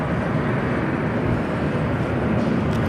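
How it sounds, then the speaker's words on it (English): Spirit Airlines jet on approach into LAX from Atlanta, a steady broadband engine roar held at even loudness throughout, distant and continuous with no talk over it. "Spirit flight coming in from Atlanta, Georgia, up next."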